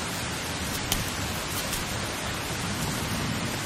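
Steady rain falls as an even, continuous hiss of drops with a few slightly sharper taps, with no voices heard.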